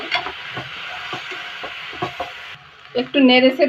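Whole spices are stirred and fried in a pan, giving a light hiss with scattered spatula taps. It goes quiet briefly, then a louder, tonal, voice-like sound follows at the end.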